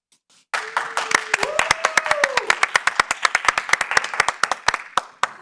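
Applause breaks out at a town board of selectmen meeting, a room of hands clapping steadily and fairly close for about five seconds, with sharp individual claps standing out and a brief voice rising through the clapping.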